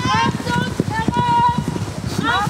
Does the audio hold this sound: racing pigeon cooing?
no